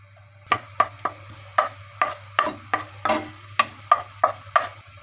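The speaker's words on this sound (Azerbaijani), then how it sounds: "2 yemək qaşığı qədər zeytinyağı əlavə edirəm. Üzərinə çox az soğan əlavə edirəm." A small amount of onion goes into a pan with about two tablespoons of olive oil, and a spoon scrapes and taps in a steady rhythm of about a dozen sharp strokes over a low hum, with no talking.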